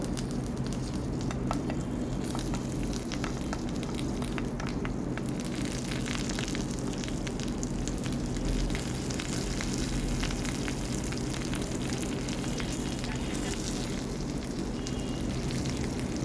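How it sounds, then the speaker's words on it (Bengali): Bhetki fish paturi frying in hot mustard oil in a pan, a dense, steady, loud sizzle that holds unbroken throughout with no voices. "সর্ষের তেলটা গরম হয়ে গেছে। এবার একে একে পাতুরিগুলো দিয়ে দেব।"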